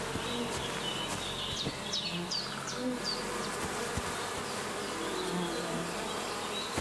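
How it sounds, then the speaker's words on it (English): Bees buzz steadily and loudly near a hidden nest in the medieval game Kingdom Come: Deliverance II, a dense insect drone filling the whole stretch with faint bird chirps above it. "I hear bees here."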